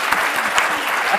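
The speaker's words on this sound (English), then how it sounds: "I just give a round of applause at this part." An audience at a corporate talk on employee inclusion programs gives a loud, close round of applause, a brisk stream of individual claps heard alone for just over a second.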